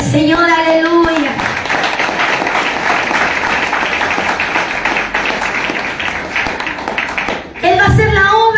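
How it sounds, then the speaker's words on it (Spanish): A church congregation claps hands loudly together during a sermon, a continuous, dense burst of clapping filling the middle of the passage, with a preacher's voice speaking before and after it. "dale fuerte palmas al Señor, aleluya"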